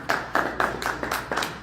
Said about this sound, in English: can we give a round of applause for him